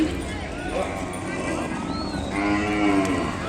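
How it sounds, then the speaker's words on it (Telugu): At a cattle market selling young bulls and calves, a calf lets out a couple of drawn-out moos amid busy livestock noise, close to the microphone. "ఈ దూడ కనపడుతుంది."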